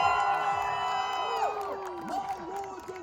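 A crowd at a medieval faire jousting tournament in Toronto cheers and whoops for a jousting team, with sustained loud shouts and whistles filling the air, and voices rising over one another.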